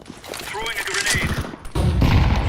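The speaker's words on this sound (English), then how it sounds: "Throwing a grenade." A grenade thrown in a Counter-Strike 2 match, with crackling gunfire and heavy bursts filling the mix before a louder, denser rumble takes over; a voice is briefly heard under the action.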